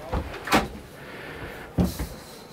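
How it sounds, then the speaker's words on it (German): A caravan bathroom door is opened wide, giving two quick close knocks and rattles near the start, then a pause before another solid clunk and latch rattle. "da lässt sich die Tür richtig weit öffnen"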